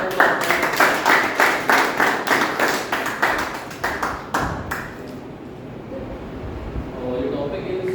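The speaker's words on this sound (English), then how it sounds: "a big round of applause." Audience claps at a speaking club meeting, a rhythmic round of applause that rises and then fades out after a few seconds, leaving quiet room tone.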